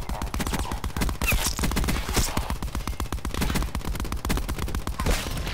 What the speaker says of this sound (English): this guy was about to kill me with a machine gun